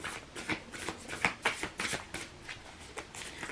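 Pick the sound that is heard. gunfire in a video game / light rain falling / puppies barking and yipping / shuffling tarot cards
shuffling tarot cards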